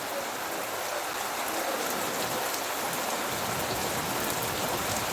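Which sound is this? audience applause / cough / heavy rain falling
heavy rain falling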